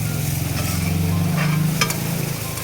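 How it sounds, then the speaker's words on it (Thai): Radish cake fries at a street-food stall in Chiang Mai's Warorot Market. The sizzle is steady and close, with a low engine-like hum beneath it and a few brief clinks. "ขนมหัวผักกาดก็คือเอาไปทอดใช่ไหมครับ"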